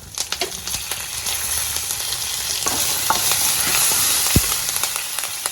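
Mustard seeds, cumin, turmeric and curry leaves crackle in hot oil for mango chitranna, with sharp popping clicks over a steady close sizzle and a few stirring scrapes, no talk.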